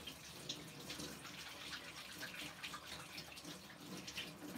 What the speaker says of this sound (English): I'm in the kitchen, that's why you can hear water.